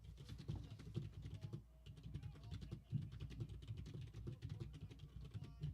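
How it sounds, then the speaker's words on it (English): Rapid typing on a noisy computer keyboard, a dense unbroken clatter of keystrokes close by, with a brief pause partway through, over a low background hum. "You type way too fucking fast."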